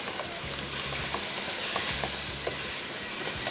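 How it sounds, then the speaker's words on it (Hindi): Beef mince frying in a pan for keema, a steady close sizzle with bubbling and hissing throughout, and faint scraping as it is stirred. "यहाँ पे आ जाते हैं और बीफ की भुनाई करते चले जाएंगे।"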